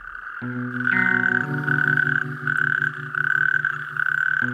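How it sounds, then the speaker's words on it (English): Chorus of male natterjack toads in Wales calling to attract a mate, loud continuous rattling trills overlapping from several animals nearby, with no voices. "The males are singing to attract a mate."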